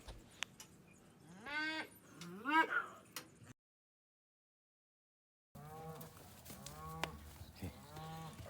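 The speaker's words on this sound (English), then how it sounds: "With these cows offloaded from the trailer, it's just business as usual, and they know right where to go." Cows mooing as they come off a livestock trailer, several loud, drawn-out moos from nearby animals in two bursts separated by a short silent gap, with farm background noise.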